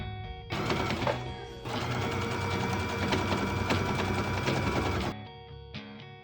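Sewing machine stitching in the ditch along a folded-over waistband, a loud, close mechanical rattle that runs steadily for several seconds, pauses briefly, then resumes.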